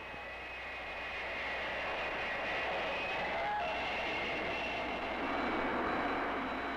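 Launch aircraft engine in flight, a steady, fairly quiet droning roar that holds evenly throughout.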